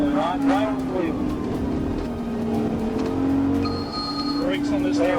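A fleeing car with a blown rear tire accelerates hard during a police chase, its engine whining up in pitch with a brief tire squeal, close and loud, with voices faintly underneath.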